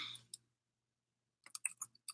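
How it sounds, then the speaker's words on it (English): Typing on a computer keyboard while entering a Google site address, a few soft clicks, then a brief pause and a quick run of light keystrokes, close and quiet. "I'm typing in Miss Heard's Google site."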